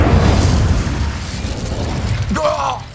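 Incendio fire spell cast in the Hogwarts Legacy video game, a burst of magical flame with crackle and whoosh near the end over a dense, continuous rumbling battle backdrop.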